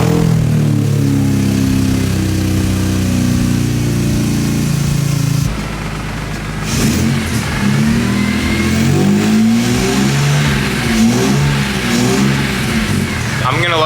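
A BMW E30 fitted with a swapped S54 engine revs loudly and close by, its harsh engine note climbing and dropping through repeated throttle blips, with a short dip midway.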